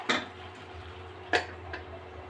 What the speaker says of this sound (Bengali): এভাবে ভালোভাবে নেড়ে চেড়ে যেভাবে আমি পানিটা শুকিয়ে নেব